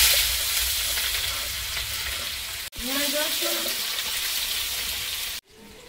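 Meat frying in a pan with dried red chilies, whole garam masala and bay leaves, a dense continuous sizzle broken by two abrupt cuts, with a brief faint voice-like sound under the frying.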